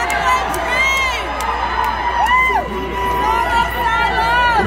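A live concert audience cheers and whoops loudly, a dense wash of shouting voices with rising and falling whistles and yells that swells and dips over a few seconds.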